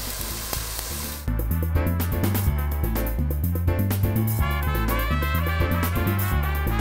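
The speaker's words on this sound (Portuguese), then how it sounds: "Já coloquei 1/4 xícara de azeite na panela. Vamos entrar com a cebola." Onion sautéing in olive oil in a pan gives a steady sizzle under rhythmic background music, which grows louder after the first second and continues throughout.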